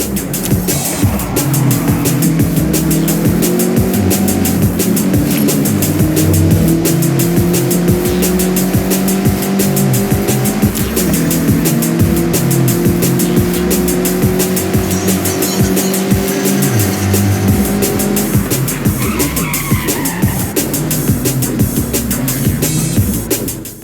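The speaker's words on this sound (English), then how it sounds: "The MX-5 likes to be sideways." A Mazda MX-5 held sideways in a drift in Forza Horizon, its engine droning steadily under continuous squealing tires for over twenty seconds, loud and close, with pitch shifts as the car transitions.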